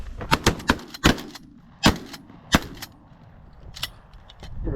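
Shotguns fire at flying pigeons during a hunt, several sharp close blasts in quick succession followed by a few more spaced shots, with faint ambient noise between.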